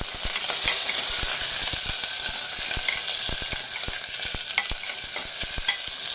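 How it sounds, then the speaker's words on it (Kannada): Green chillies and onion fry in a pan, a steady broadband sizzle with frequent sharp clicks and pops of stirring throughout, close and fairly loud, no talking. "ಮೆಣಸಿನ್ಕಾಯಿ, ಈರುಳ್ಳಿ ಹಾಕೊಂಡು ಚೆನ್ನಾಗಿ ಹುರಿಯೋದು"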